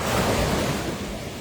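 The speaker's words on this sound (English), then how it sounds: "Just want to show you a little beach scene." Ocean waves at the beach make a steady, broad wash of surf, loud and continuous with wind noise buffeting the microphone.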